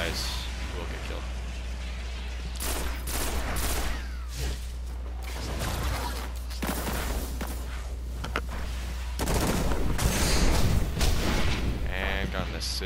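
Shotgun blasts and gunfire in the video game Destiny come as booming bursts and echoing shots over a steady low game hum, with a voice talking through much of it.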